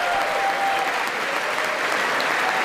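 Sustained applause from part of a joint session of Congress, steady and dense across the chamber, with no voices over it.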